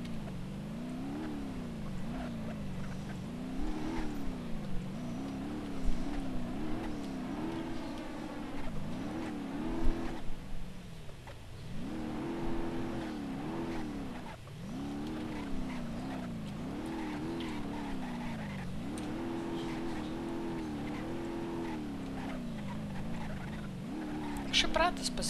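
In the BeamNG Drive video game, a Golf-type car fitted with rally wheels drives with a rising and falling engine drone that shifts through gears, with a voice talking over it.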